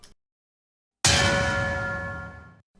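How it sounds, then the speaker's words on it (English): A gigantic metal keg is struck once after a silent pause, a loud clanging hit with ringing metallic overtones that decay over about a second and a half. "the sound of a gigantic metal keg being smashed"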